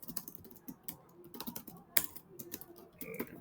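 Typing on a computer keyboard, close and fairly quiet, with uneven bursts of individual key clicks and one sharper tap partway through, alone without talk.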